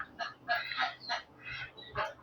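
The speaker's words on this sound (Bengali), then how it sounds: "আর এই হাঁসগুলোর সাথে আমার কিছু মুরগি আছে" Ducks and chickens on a farm give a run of repeated nasal, honking calls in short bursts, fairly close and alone with no talking.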